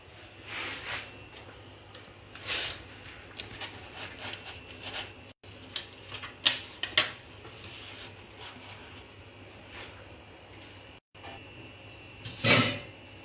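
Pizza ingredients are mixed by hand in a bowl, giving soft irregular rubbing and scraping strokes with occasional sharper knocks against the bowl, fairly quiet and close, with brief silent gaps.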